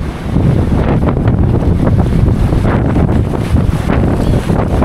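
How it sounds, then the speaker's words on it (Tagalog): Strong wind buffets the microphone on a fishing boat out at sea, a constant loud roar with rumbling gusts that fills the whole clip, no voices heard. "Tagilid yung lure natin sa lakas ng hangin guys."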